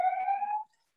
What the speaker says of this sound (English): that's an ambulance outside